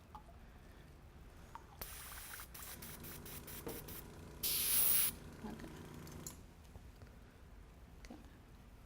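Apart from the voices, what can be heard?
airbrush spraying paint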